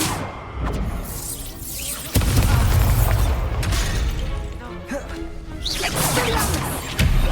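Confringo blasting spells in Hogwarts Legacy, fired during a fight in the Forbidden Forest: several loud crashing impacts and whooshes come in bursts, with a voice heard briefly.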